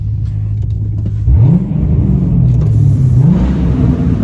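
A Vauxhall Monaro VXR engine revs up sharply, its pitch rising and falling in a couple of swells over a steady low rumble, loud and close.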